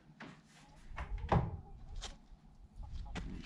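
A Larson storm door being installed on a shed is swung shut, giving a muffled thunk of the door meeting its frame amid quieter handling knocks and rattles.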